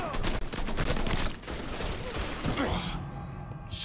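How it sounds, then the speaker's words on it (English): Rapid bursts of gunfire from the video game Mafia 3, a dense fusillade of sharp shots close and loud, easing off near the end. "what is he shooting me with?"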